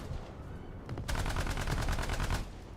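A long, rapid burst of automatic gunfire in a video game rattles steadily for over a second, preceded by a few scattered shots, moderately loud against a quiet background.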